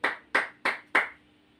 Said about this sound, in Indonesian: ayo kita tepuk tangan bersama.